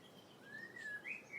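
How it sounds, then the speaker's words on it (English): Thin, faint birdsong with a rising whistle and a brief bright chirp, heard outdoors on a walk over a low ambient hush. "Birdsong."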